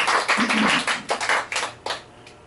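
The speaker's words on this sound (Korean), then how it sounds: "큰 소리 박수 한번 쳐주세요" Church congregation clapping loudly together, a dense burst of close hand claps that surges in a few waves and trails off after about two seconds.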